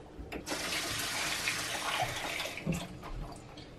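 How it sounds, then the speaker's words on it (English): Water pours steadily from a tap to fill a homemade plasma cutting table, a continuous close gush with a few small knocks and no speech. "Fill it up with some water."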